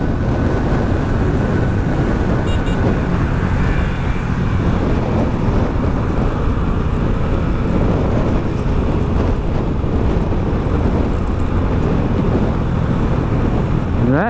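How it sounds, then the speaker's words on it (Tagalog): Strong wind buffets the microphone during a motorcycle ride on Marilaque highway, a loud, steady roar that never lets up, with a low rumble underneath and no talking. "Napakalakas naman ng hangin dito."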